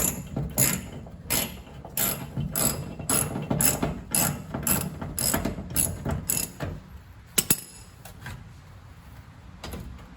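Tightening or loosening a factory hose clamp on the fuel line of a 1967 Cadillac gas tank with a ratchet gives steady, quick clicking strokes in bursts, fairly close and alone, with a brief pause near the end.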